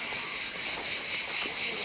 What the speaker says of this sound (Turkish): Çok fazla cırcır böceği sesi var.